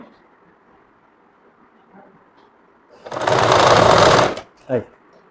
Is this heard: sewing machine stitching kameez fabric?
yes